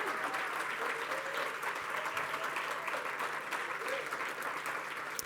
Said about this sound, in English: I'm going to ask you to hold your applause